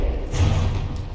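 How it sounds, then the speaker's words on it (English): A turret cap popping off a battleship in the naval combat game From the Depths: one short, heavy thump with a brief dull rumble behind it, loud and close. "Oh, that's another turret cap popped off."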